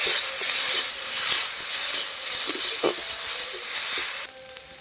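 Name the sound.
spices frying in a pan with salt, chili, cumin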